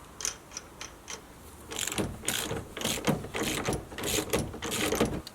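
A nut is ratcheted on during an interior restoration of a Ford Sierra Cosworth, with a few sparse clicks at first and then a steady run of rapid ratchet clicks, close by with no talk.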